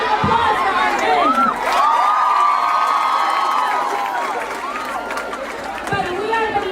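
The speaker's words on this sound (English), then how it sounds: "Give us a round of applause for our men." A crowd at a gathering in Kenya cheers loudly, with high wavering ululation-like calls and shouts over steady applause, close and sustained throughout.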